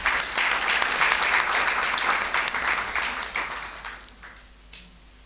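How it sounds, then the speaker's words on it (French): Warm audience applause at a book signing for a novel, honoring the author's mother; a full burst of clapping at the start gradually thins and fades out to near silence by the end. "Je voudrais qu'on l'applaudisse très fort."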